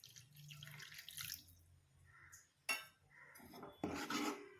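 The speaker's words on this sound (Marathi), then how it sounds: "अजून थोडंसं पाणी टाकते." Water poured into a pan of roasted besan gram flour for a harbhara leaf bhaji, a splashy broadband gush in short bursts with brief pauses between pours, fairly close and moderately loud.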